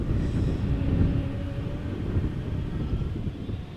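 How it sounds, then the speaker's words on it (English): A KLM Embraer E195-E2 airliner heading out gives a moderate, low engine rumble with a faint whine, swelling slightly and then easing, with no voices. "So this is an E2 Embraer 195 going to Bilbao, KLM flight 1685."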